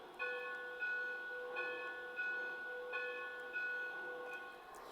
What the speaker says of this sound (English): this locomotive has the ability to have bell sounds as well